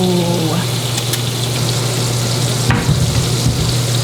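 Scallops searing in melted butter in a hot pan give a steady close sizzle, with a low hum underneath and a brief clatter partway through, no talking.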